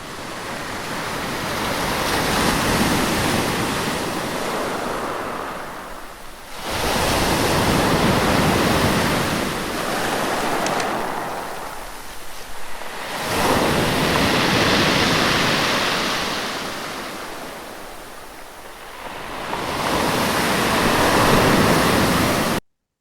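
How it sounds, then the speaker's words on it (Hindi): Sea waves wash onto the shore in slow surges, each swelling to a loud rushing roar and then fading before the next breaks. "सागर की लहरों की आवाज है।"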